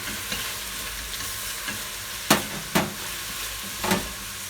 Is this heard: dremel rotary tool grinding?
no